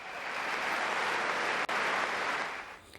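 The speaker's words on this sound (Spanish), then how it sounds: "Los aplausos duraron más de un minuto para ella y para los sanitarios que estaban allí con ella en el palco real." Sustained applause for a woman and health workers standing in a royal box, a dense, steady wall of clapping from a large crowd that holds loud throughout and tapers slightly at the end.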